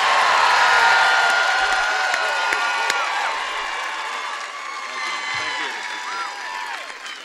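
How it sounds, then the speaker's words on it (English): At an outdoor political rally in Harrisburg, a large crowd applauds and cheers for a U.S. senator being introduced. Steady clapping carries scattered whoops and shouts, loud and continuous throughout. "Please give a big round of applause to Bob Casey"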